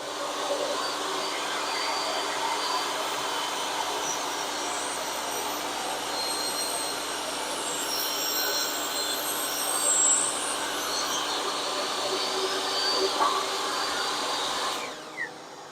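A Hercules 10-inch table saw fitted with a dado blade cuts through wood with a shop vac hooked up, a loud, steady whining roar that holds for about fifteen seconds before spinning down at the end.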